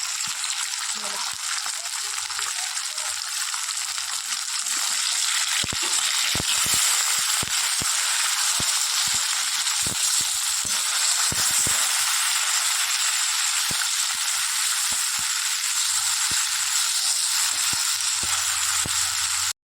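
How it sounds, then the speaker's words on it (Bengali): Amudi fish frying in oil in a pan, a loud continuous close sizzle and hiss with scattered sharp crackles and pops throughout. "এই হচ্ছে আমুদি মাছ, ভাজা বসিয়ে দিয়েছি"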